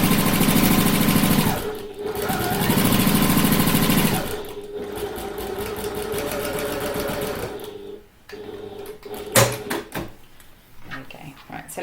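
A sewing machine back stitching a handbag pocket seam runs in loud, fast mechanical bursts, pausing and restarting, then slows into separate stitches and clicks near the end.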